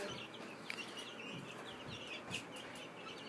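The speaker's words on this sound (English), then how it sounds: "what we're looking at is a little under 200 chicks here" Nearly 200 chicks, including Cornish cross meat birds, in a brooder, giving a dense continuous chorus of overlapping high peeps and chirps at low level, with no talking.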